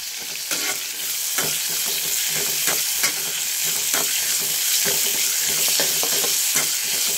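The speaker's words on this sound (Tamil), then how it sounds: "நல்லா வதக்கிக்கலாம்." Onion, green chilies and tomato sautéing in a pan for a chicken dish, a continuous loud sizzle with repeated scraping strokes of a spatula, close up and without talk.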